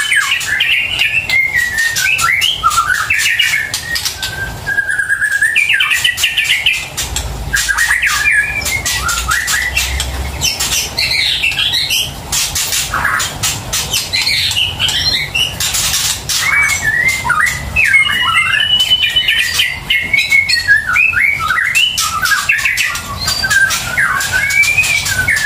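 Caged murai and green leafbird (cucak hijau) songbirds sing loudly and continuously at close range, trading rapid whistled phrases, chirps and warbling trills over a steady background.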